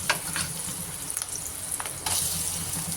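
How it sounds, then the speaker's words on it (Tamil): Ground lentil paste dropped into hot oil for paruppu urundai kulambu, producing a bright, hissing sizzle that surges louder partway through, close up and without talk. "அரைச்சி வச்சுருந்த பருப்பை எடுத்து இந்த எண்ணெயில் போடணும்"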